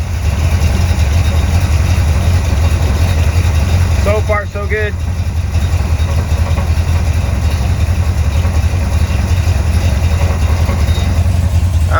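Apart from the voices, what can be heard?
engine idling after oil pressure line installation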